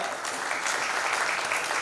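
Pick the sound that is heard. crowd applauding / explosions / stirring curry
crowd applauding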